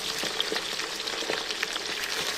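Tripe crackles and sizzles as it fries in hot oil with black cardamom and cinnamon. The frying is loud and close, with dense popping and spitting throughout.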